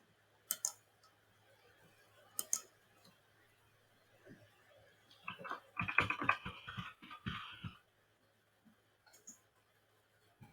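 Sharp computer mouse clicks while a document is saved, a few isolated clicks early on, then a cluster of faint tapping and clicking, quiet and close with light background hum.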